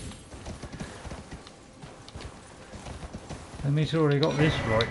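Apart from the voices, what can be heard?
horse hooves galloping in the video game Elden Ring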